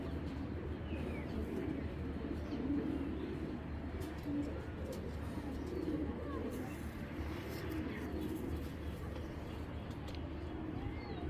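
A pair of large Giribaz pigeons at a Bangladeshi pigeon farm coo in low, repeated rolling phrases close by, over a steady background hum with a few faint chirps.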